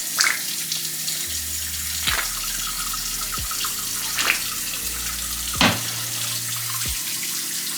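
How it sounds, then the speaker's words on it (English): Tap water runs into a sink as hands are washed, a steady close splashing stream with occasional sharper splashes as the hands move through the flow; nobody speaks. "always gotta wash your hands, you know, get them bacteria germs off it."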